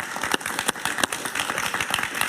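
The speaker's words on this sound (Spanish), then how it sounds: "Un aplauso para José Antonio Colina." A television studio audience gives a short burst of applause, dense and fairly close clapping that lasts about two seconds.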